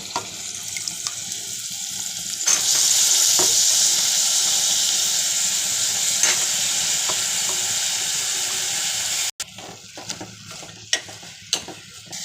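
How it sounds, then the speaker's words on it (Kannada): Washed vegetables go into a hot pan for avarekalu saaru, bringing a loud, steady sizzle and hiss of frying; the hiss cuts out abruptly, followed by scattered scrapes and clinks of stirring. "ಇವಾಗ ತರಕಾರಿ ಎಲ್ಲ ತೊಳೆದ್ಬಿಟ್ಟು ಇಟ್ಕೊಂಡಿದೆ, ಅದನ್ನು ಹಾಕ್ಕೊತೀನಿ"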